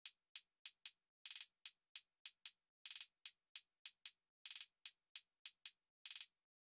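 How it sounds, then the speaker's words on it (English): Thin, crisp trap hi-hats tick out a sparse drill-style pattern for a UK drill beat, single hits mixed with quick triplet rolls, dry and isolated with nothing else playing. "I came up with this very simple drill inspired hi-hat pattern that sounded like this."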